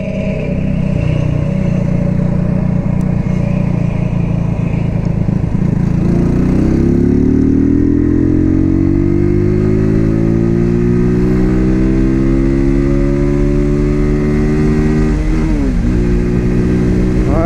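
Single-cylinder Cougar Vitacci XMT 250 EFI motorcycle engine idling, then revving steadily upward toward its limit, a loud, close, continuous rising drone with a brief dip and second climb near the end.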